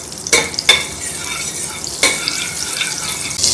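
Oil goes into softening butter in a pan for Mumbai-style pav bhaji, a steady close sizzle with a few sharp bursts of crackle and light utensil knocks.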